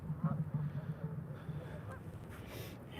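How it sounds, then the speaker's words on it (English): Geese honk outdoors near a river at night, a rhythmic series of nasal calls at moderate distance, loudest at the start and fading, with faint talk in the background. "Hey, there's some geese. You hear them?"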